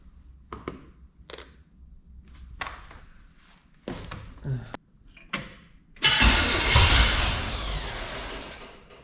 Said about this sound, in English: and now technically we can start the truck up